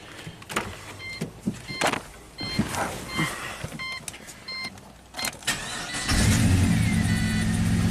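A Pontiac GTO V8 with a misfire cranks and catches near the end, settling into a loud steady run after a stretch of clicks and rattles.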